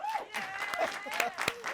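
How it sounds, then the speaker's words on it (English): Studio audience applause for an actor on a late-night comedy show, a short burst of clapping with cheers, mixed with speech and voices over it. "Let's give him a round of applause."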